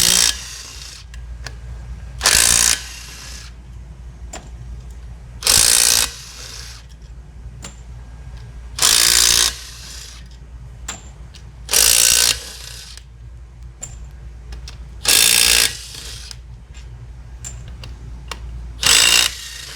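Bursts of a power ratchet spin off bolts from the bed plate of a performance Ford Raptor engine, about seven short loud buzzes spaced evenly, a few seconds apart, with quiet between them.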